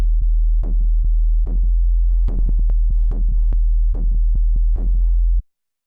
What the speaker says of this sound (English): I decided to use a separate sub bass that sounds like this.